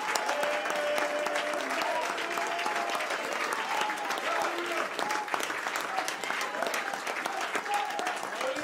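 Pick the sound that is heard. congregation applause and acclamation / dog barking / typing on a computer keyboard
congregation applause and acclamation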